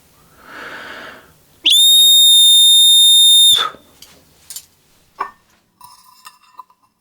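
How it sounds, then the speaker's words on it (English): A whistle made from a tin can ring gives a breathy puff and then one long, loud, piercing tone held for about two seconds. Short fainter squeaks and chirps follow, all alone and close to the listener. "For the whistle to work, you need to cover the side holes in the ring with your fingers."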